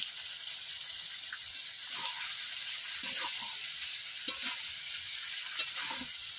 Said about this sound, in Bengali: এবারে আলু দিয়ে দেবো আলু কিন্তু আগে থেকে ভাজা ছিল